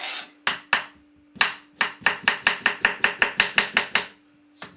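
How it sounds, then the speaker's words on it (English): A knife slices cucumber on a cutting board for a weight-loss juice, a few separate chops followed by a fast, even run of about a dozen crisp knocks and a final single cut, close and alone. "Few slices of cucumber into it like this."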